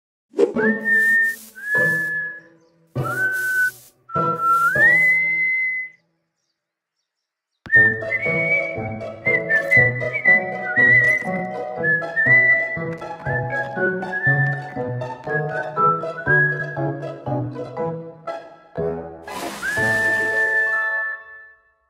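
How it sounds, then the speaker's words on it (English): Clear whistling in several short rising notes, then a longer melodic whistled tune that wavers up and down, close and fairly loud. "When you whistle, you make sound by blowing air through your lips and teeth."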